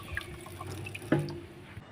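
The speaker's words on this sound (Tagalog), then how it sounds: "Hugasan po natin ng mabuti itong ating gulay" Water trickling and dripping at a kitchen sink while broccoli is rinsed, soft and close, with a brief louder splash midway and no speech.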